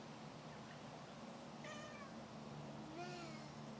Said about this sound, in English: You talking to the kitty cat?